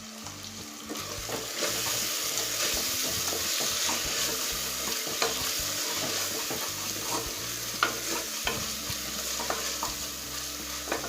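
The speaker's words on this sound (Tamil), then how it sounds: "இப்போ தக்காளி நல்லா வதங்கியிருக்கு." Tomatoes sautéing in a pan for kuska biryani, a steady close sizzle of frying with repeated scraping stirs of a utensil through the mix, continuing throughout.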